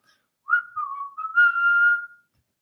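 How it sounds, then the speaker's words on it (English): A single person whistles a short tune of a pop song, a clear close melodic phrase of a few sustained and sliding notes lasting under two seconds, alone in a quiet room. "she like whistles it"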